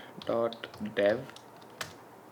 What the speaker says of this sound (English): go to your web browser, type uh, flutter.dev